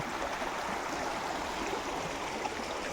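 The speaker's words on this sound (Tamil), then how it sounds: "இந்த பாருங்க தண்ணி எவ்வளோ சூப்பராக வருது பாருங்க" Mountain stream water rushing steadily and close by in a hill area, a continuous broadband wash with no pauses and no voices.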